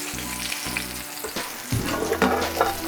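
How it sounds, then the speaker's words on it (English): Salmon frying in a pan, a continuous close sizzle with crackling bursts, broken by low humming tones and a few clinks and stirring sounds. "we're gonna cook our fish to a medium temperature"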